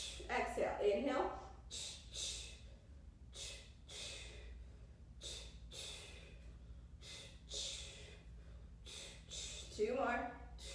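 Sharp, percussive Pilates breaths, forceful nasal exhales repeated in a steady rhythm of roughly one per second, close and fairly loud, with brief voiced sounds at the start and end.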